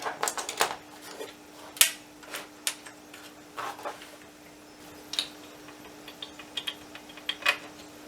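Keys on an Amiga 500 computer keyboard being pressed, a sparse series of sharp plastic clicks and taps at uneven intervals, some in quick bursts, close and alone over a faint steady electrical hum.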